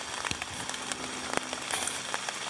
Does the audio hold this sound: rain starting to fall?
yes